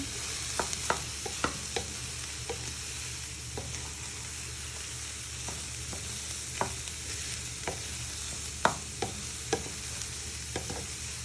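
Onions and garlic fry in a pan under a steady soft sizzle while a utensil stirs them, making scattered scraping taps around the pan, close and moderately quiet with no talking.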